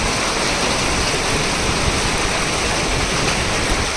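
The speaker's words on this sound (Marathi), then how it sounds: "बा किती पाऊस होतोय सारखा चालू आहे" Heavy monsoon rain pours onto a town street in Manchar, Ambegaon taluka, making a loud, dense, unbroken roar of falling water with no voices.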